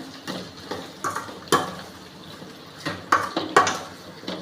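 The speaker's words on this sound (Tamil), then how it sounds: "இப்போ கல் உப்பு போட்டுக்கலாம் ஃப்ரெண்ட்ஸ். போட்டு நல்லா வதக்கி விட்டுக்கலாம்." Brinjal sautéed with rock salt in a pan, irregular clinks and scrapes of a spoon against the metal pan as the pieces are stirred, close and fairly loud with quiet gaps between strokes.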